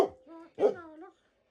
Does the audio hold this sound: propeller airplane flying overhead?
no